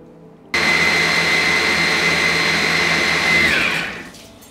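Blender pureeing cooked fruit pulp into a smooth souffle base, whirring up abruptly to a loud steady motor whine for about three seconds, then winding down as it switches off.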